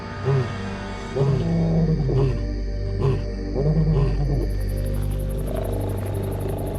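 Lions roaring to proclaim their territory, a run of deep, rhythmic grunting roars pulsing roughly once a second at moderate distance over a steady low background rumble.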